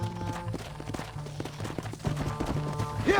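Horses galloping in a video game, quick rhythmic hoofbeats under a layer of game music and ambient noise, steady and moderately close for a few seconds.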